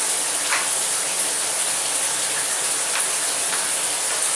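Ice water pours over a football player in full gear, a steady loud hiss of splashing water running throughout with no voices.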